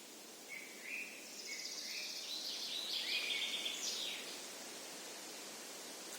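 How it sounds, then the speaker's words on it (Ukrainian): Small birds sing in a forest on a windy, overcast day, their high chirps and short trilling phrases fairly distant over a steady hiss of wind through the trees, with no talking. "пташки співають"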